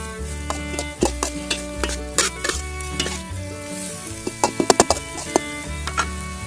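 Garlic stalks and shrimp are stir-fried in a pan, giving a steady sizzle. A spatula scrapes and clacks against the pan in irregular strokes, with a fast cluster of sharp knocks toward the end.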